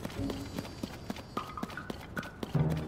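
Horse hooves clip-clop in The Legend of Zelda: Tears of the Kingdom, a steady series of moderate, fairly close game footfalls over faint background sound, with no talking.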